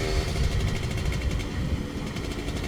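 Suzuki Satria R120 motorcycle with a Mikuni block engine, revving hard in a steady, loud, rough drone close by, with no pauses through the whole stretch.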